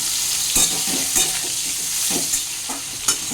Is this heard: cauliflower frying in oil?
yes